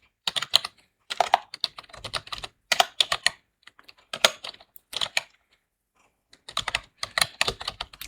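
Fingers type on a computer keyboard in quick bursts of clicky keystrokes separated by short pauses, close and fairly loud with no talk.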